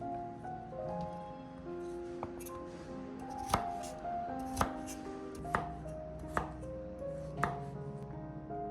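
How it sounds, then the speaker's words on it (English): Vegetables being chopped into small, even pieces, with a handful of sharp knife strikes on a board spaced about a second apart, close and fairly quiet over a soft background hum with faint ringing tones. "First, chop the vegetables into small, even pieces so they cook quickly"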